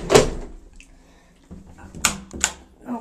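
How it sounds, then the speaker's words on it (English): A ThyssenKrupp lev home elevator door opening, giving a sharp mechanical clack followed by a couple of clicks and rattles, close and distinct in a quiet room. "Well, let's open up the door."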